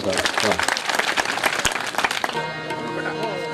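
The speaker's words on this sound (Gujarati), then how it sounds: "જોરદાર તાળી મિત્રો" An audience at a Gujarati comedy and bhajan programme breaks into loud, dense applause that lasts about two seconds, then fades as music with sustained tones takes over.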